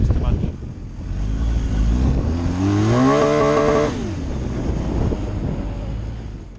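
A motorcycle descends an off-road slope under engine braking, its engine note rising and falling harmonically with a brief burst of power midway, loud and close, with wind buffeting throughout.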